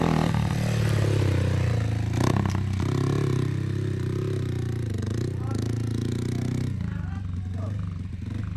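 A Honda motorcycle idles and revs in remote Chilean Patagonia, its engine a loud steady rumble with a few clattering bursts, while people talk over it.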